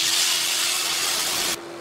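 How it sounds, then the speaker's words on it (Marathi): Water poured into a pan of sugar gives a loud, steady hiss that cuts off abruptly near the end, leaving a quieter low background. "आता हे साखरेच्या निम पाणी घालू."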